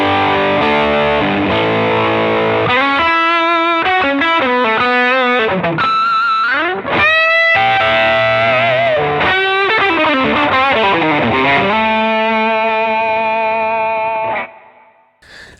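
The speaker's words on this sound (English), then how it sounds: "stacking overdrive pedals is where it's at" Heavily overdriven electric guitar through two stacked overdrive pedals, playing thick distorted chords and riffs, loud and saturated, ringing out before stopping abruptly near the end.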